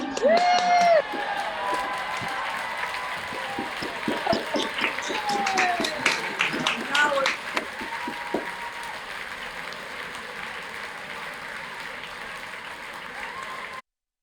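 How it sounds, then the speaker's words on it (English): Participants at an online university graduation ceremony unmute to clap and cheer, producing a mixed, slightly distorted wash of scattered applause through computer microphones, with voices and whistles over it, ending abruptly. "please unmute yourselves and give yourselves a round of applause"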